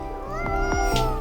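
A cat in Coffee Talk Episode 2 gives a single short, close meow over a steady tonal background.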